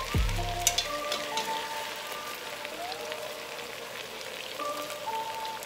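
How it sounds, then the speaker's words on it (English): Chicken browning in hot oil in a pan for Belizean stew chicken gives a steady, close sizzle with crackling pops throughout, and a brief clatter near the start. No one speaks. "Just doing a little frying. A little browning in the oil."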